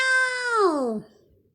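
A single cat meows close by, one drawn-out harmonic call that bends downward in pitch and fades over about a second, with no other sound around it.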